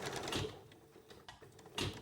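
Sewing machine stitching a sleeve into a princess bodice, two short whirring runs of the needle separated by a quieter pause while the fabric is eased, heard up close.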